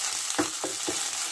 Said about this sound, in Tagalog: nag-gisa na ako na. Nasunog na pala yung sibuyas ko.